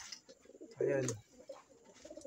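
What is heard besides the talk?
pigeons cooing at night feeding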